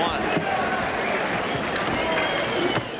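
A boxing crowd at the Great Western Forum roars in a sustained, broad wash of cheering and scattered applause during an IBF world championship bout, with a commentator talking over it.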